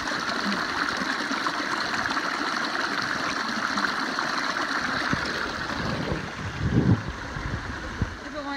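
A waterfall and stream along a hiking trail in the White Mountains, with a steady broadband rush of flowing water throughout and a brief louder splash or thump near the end, with no talking.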